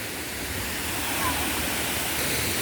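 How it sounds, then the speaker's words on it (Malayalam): Soochipara waterfall in Wayanad roaring after summer rain, a steady dense rush of falling water, loud and continuous with no break. "എല്ലാവരും വെള്ളച്ചാട്ടത്തിൻ്റെ സൗന്ദര്യം ആസ്വദിക്കുകയാണ്."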